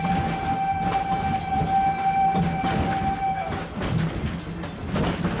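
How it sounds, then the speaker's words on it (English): A Disney Animal Kingdom train arriving at Harambe station rumbles and clatters along the rails while a sustained whistle tone sounds for several seconds, then fades, leaving rolling wheel noise. "We are now approaching the Harambe train station."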